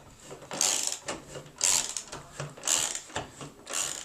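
A ratchet driving a lag bolt into a wall stud to hang an articulating LCD TV wall mount, heard as four bursts of rapid clicking, close and moderately loud, with short pauses between strokes.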